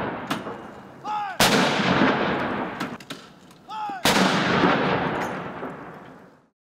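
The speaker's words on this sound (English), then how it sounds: "honored their new Commander-in-Chief" Two loud 19-gun salute cannon blasts about three seconds apart at a governor's inauguration, each with a long rolling echo that slowly fades, with fainter bangs beforehand.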